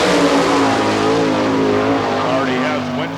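A sprint race car rounds the oval at the All Star Circuit of Champions Spring Nationals in Hartford, Ohio, its engine a loud sustained roar that shifts in pitch as it passes, with an announcer talking over it.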